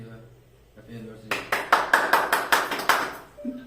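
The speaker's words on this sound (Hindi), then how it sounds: "ताली" A short burst of hand clapping at a family anniversary celebration with cake, about nine quick claps in an even rhythm, close and fairly loud, with voices murmuring before and after.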